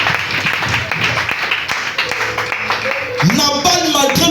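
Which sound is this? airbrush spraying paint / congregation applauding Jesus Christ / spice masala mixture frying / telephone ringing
congregation applauding Jesus Christ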